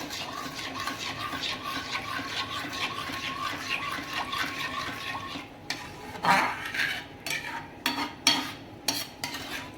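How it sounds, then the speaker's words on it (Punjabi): Milk powder is stirred into milk in a pan, a steady wet swishing of a spoon that gives way to sharper scrapes and clinks against the metal toward the end. "ਇਹਨੂੰ ਆਪਾਂ ਮਿਕਸ ਕਰ ਦਿੰਨੇ ਆ ਨਾਲ ਦੀ ਨਾਲ ਆਪਾਂ ਚੰਗੀ ਤਰ੍ਹਾਂ ਮਿਕਸ ਕਰ ਦਾਂਗੇ"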